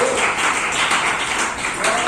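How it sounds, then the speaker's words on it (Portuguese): A church congregation claps together in a dense, continuous round of applause that runs the whole moment at close, full volume. "Pode glorificar a Jesus com palmas poderosas."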